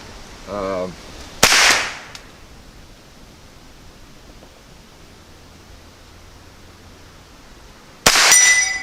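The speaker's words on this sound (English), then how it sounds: "I'm going to load up and we're going to shoot again at the bottles." GSG16 .22 rifle shots at bottles from 50 yards, two sharp loud cracks several seconds apart with a short voice before the first.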